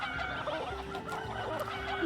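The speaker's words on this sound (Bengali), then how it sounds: "এই মুরগি" Chickens cluck on a farm in the Avatar World video game, a steady run of close, repeated clucks and fowl calls with no talking.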